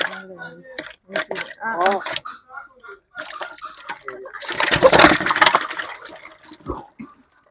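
Yellow catfish are tipped into water with a short burst of splashing midway, close and loud, while people talk before and after.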